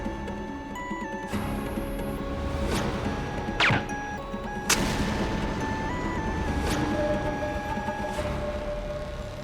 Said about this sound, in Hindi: ये पटाखा किसने फोड़ा?